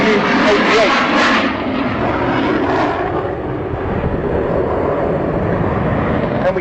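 MiG-29 Fulcrum jet fighter flying an airshow display at RIAT 2012, a loud, continuous broadband engine roar filling the whole clip, with a narrator talking over it throughout.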